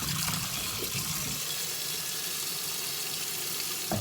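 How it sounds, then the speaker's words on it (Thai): Clean tap water pours steadily over halved potatoes in a pot, readied for boiling to make mashed potatoes; a continuous, close, even splashing rush fills the clip with no talk. "ต่อไปก็จะมาทำการใส่น้ำเปล่าใสสะอาดด้วยค่ะ"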